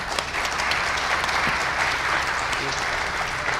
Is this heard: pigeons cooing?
no